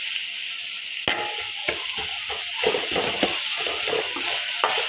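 Onions and tomatoes sautéing in a pan for fish curry masala: a steady, bright sizzle fills the background while a spoon scrapes and stirs in irregular soft knocks near the mic.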